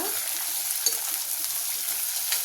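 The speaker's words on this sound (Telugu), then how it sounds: "ఇప్పుడు మనం కట్ చేసి పెట్టుకున్న ఉల్లిపాయలు వేద్దాం" Chopped onions fry with cumin in a hot pan, giving a steady, close sizzling hiss with light crackles and no talking.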